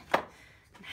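A single short scrape or tap of a utensil in a bowl while whisking a garlic and mayonnaise mixture, quiet and brief, with faint room noise around it.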